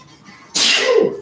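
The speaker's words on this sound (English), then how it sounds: "Excuse me as I sneeze." A single loud, close sneeze bursts out abruptly after a brief quiet moment, then trails off.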